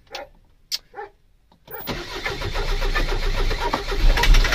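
A van engine with a suspected head gasket fault cranks and catches after a quiet pause, settling into a loud, steady rough idle that continues to the end.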